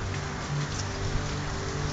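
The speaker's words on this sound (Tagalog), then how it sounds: "Ayan, tingnan mo, umuulan." Rain falls steadily during a super typhoon, a dense, even patter close by with no voices over it.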